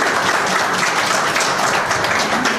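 Dense, sustained applause from a large crowd, steady and loud throughout with no pauses.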